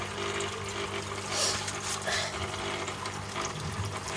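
Water trickles and flows through the drainage system of a tiered crayfish tank setup, a steady close splashing over a low mechanical hum, with faint clicks and no talking.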